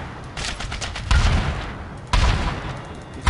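SMG gunfire from the Syndicate video game crackles in rapid bursts, with louder volleys punching in roughly every second over a continuous rattle of shots.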